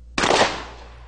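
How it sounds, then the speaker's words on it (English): A single loud shotgun blast firing a tactical rifle slug, a sharp close report followed by a decaying echo tail. "Compare it to what happens when you fire a tactical rifle slug."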